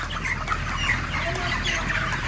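Chickens cluck and mutter continuously close by, a busy overlapping chatter of hens with no talking.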